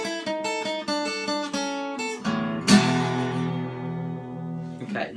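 Electric guitar plays a riff, a quick run of plucked single notes followed by a ringing strummed chord that sustains and decays, played alone up close.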